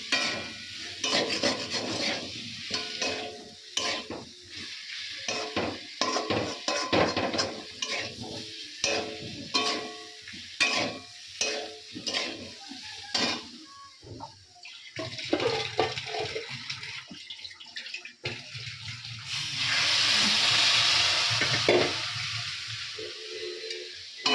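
Spices are stirred in a pot with repeated scraping and clattering strokes and some sizzling. Later comes a sustained splashing pour of water, then a few more stirs.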